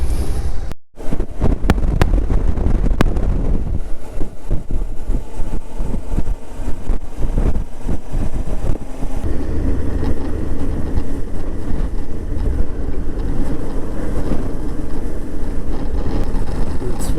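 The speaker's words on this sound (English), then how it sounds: "It's rather windy here." Strong wind buffets the microphone at a roadside motorcycle stop on a desert border road, a constant heavy low roar with gusty rumbles and a few sharp knocks near the start, with no clear voice.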